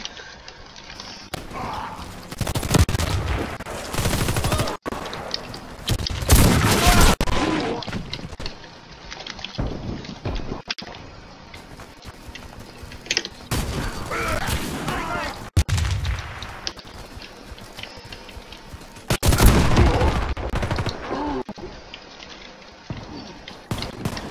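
Shotgun fire in the online shooter Warface, with heavy booming blasts in several bursts spread across a busy, noisy mix of game sound.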